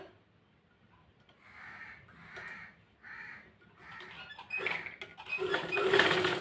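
A sewing machine stitches canvas-backed fabric for a frock-style nighty neckline in short whirring bursts, near and moderately quiet, building into a longer, louder run toward the end.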